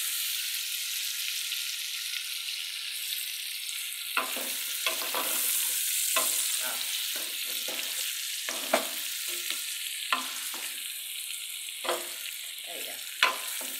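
Ingredients sautéing in a pan as the base for a Brazilian feijoada, a steady close sizzle with clinks and scrapes from stirring scattered through it, heard alone without talk.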